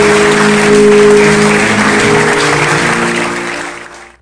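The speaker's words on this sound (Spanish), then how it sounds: "dale un fuerte aplauso al Señor" Sustained applause from a church congregation, loud and steady at first, then gradually fading away toward the end, with a faint tonal hum underneath.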